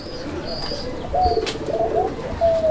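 Domestic pigeons at a sale cooing in a short series of clear, close, rolling calls over a steady low background hum, with no talk.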